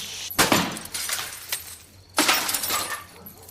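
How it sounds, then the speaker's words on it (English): Two loud crashes of a glass window shattering as a man is thrown through it, each a sharp burst of breaking glass followed by a tinkling spray of falling shards. "they throw him through a glass window"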